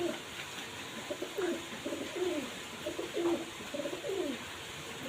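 Pigeons coo in a series of soft, rolling calls, several close together across the span, over a faint steady background hum with no speech.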